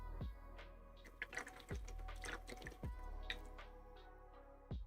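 A paint brush is rinsed in a small water pot during a Warhammer miniature painting session, with soft sloshing, drips and squishy dabs in short irregular bursts, quiet and close.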